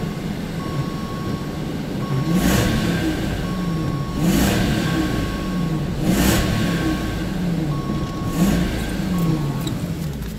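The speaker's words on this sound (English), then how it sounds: "Rev engine with loads off." A vehicle engine is revved repeatedly during an alternator charging test in a workshop, about four rising surges over a steady idle drone, with a faint electronic tone running through.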